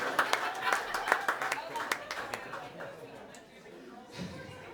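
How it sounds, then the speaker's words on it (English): A live talk-show audience claps in scattered, uneven bursts that thin out and fade partway through, with people talking over and after the claps. "Keep clapping or you're racist."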